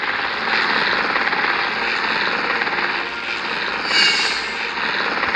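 Helicopter flying over a park in a Minecraft game, a steady whirring engine and rotor drone that runs continuously and rises briefly in the middle, with no talk.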